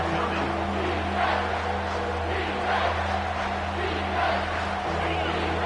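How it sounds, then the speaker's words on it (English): A home crowd at an Ole Miss vs Maryland football game roars on a third down, a sustained, dense wall of distant cheering and noise that holds steady across the stadium. "Here comes this home crowd as the defense tries to get off the field on third down."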